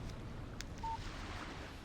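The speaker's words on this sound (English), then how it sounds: "Text message from Barry." A brief electronic beep of a phone text message alert in the Alan Wake video game, a single short tone over a steady windy outdoor background.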